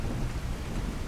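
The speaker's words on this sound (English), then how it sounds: "Ooh, look at that rain." Steady heavy rain with a deep rumbling undertone of thunder fills a video game scene, a dense continuous wash that stays loud and even throughout, with no voices.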